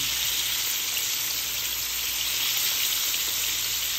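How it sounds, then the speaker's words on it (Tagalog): Fish frying in oil, with sand added to the pan to stop splattering, giving a dense, even, continuous sizzle up close and no voices. "Walang mantikang maglilitaran. Pag tayo nagprito ng isda."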